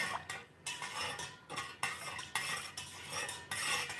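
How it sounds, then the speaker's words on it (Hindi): A spoon stirs salt into water in a bowl, producing rhythmic swishing and clinking strokes against the sides, close and fairly quiet, repeating roughly every half second. "इसमें सॉल्ट को अच्छे से मिक्स कर लेते हैं।"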